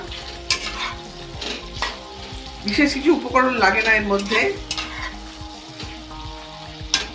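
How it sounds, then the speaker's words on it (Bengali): Green and red chillies fry and are stirred in a pan. Steady sizzling runs with spatula scrapes and clinks, the frying growing busier midway, while someone talks over it. "লঙ্কাটা একটু নাড়বো, ভাজা ভাজা হয়ে যাবে লঙ্কাটা।"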